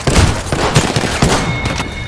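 Enemies firing at the player in a video game: a rapid volley of loud gunshots and thuds at irregular intervals over a couple of seconds, dense and close, with a faint high tone near the end.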